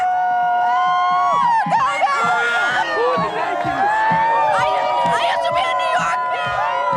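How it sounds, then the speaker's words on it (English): Pumped-up crowd of baseball fans cheering and whooping after the Diamondbacks win the 2001 World Series, a dense continuous roar of shouts and yells up close with no pauses. "just a pumped up crowd not believing that our Diamondbacks have made it all the way"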